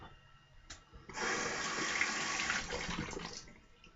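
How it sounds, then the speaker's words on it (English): Water runs from a tap in a steady, close stream for about two and a half seconds, starting abruptly and then tapering off, while shaving soap is prepared. "A little bit of water to that."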